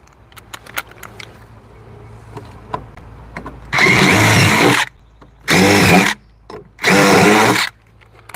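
A power tool drives fasteners into a hinge on a cedar deck access door, firing in three loud, close bursts of roughly one second each with short pauses between them, after a quieter stretch of light handling noise.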